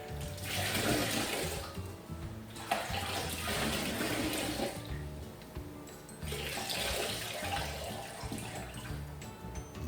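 Sponge being rinsed in a pail of water while prepping a mudroom floor, with repeated bursts of sloshing and dripping water, close and fairly quiet.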